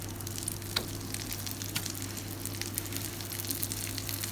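Pinches frying in melted butter, a steady soft sizzle with small crackles and pops, close and fairly quiet, no talking.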